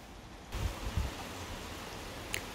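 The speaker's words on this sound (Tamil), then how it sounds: "ஆனால் மழை எப்போன்னு பார்த்து நல்லா பெய்யுது" Heavy rain pours steadily in a broad, hissing wash, with a few low thumps near the start and a brief sharper tap near the end.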